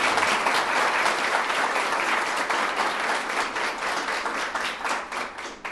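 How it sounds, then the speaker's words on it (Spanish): Audience at Universidad Sergio Arboleda applauds a presidential candidate, Humberto de la Calle, with dense, steady clapping that stays loud and close for the whole stretch, no voices rising above it. "un aplauso para el señor candidato"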